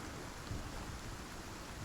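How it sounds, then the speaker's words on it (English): Steady rainstorm in the survival game Icarus on the planet Olympus, a dense even hiss of rainfall with low rumbling underneath and a slight swell midway, with no talking. "And I guess we're just going to wait for this storm to pass."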